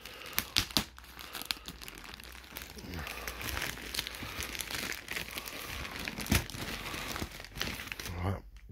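Paper packaging from an Adidas Heitor Forum 84 Low shoe box crinkles and rustles up close in uneven bursts, with sharper crackles scattered throughout as it is handled.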